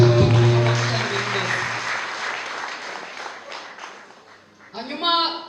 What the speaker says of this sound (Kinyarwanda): mumukomera amashyi cyane.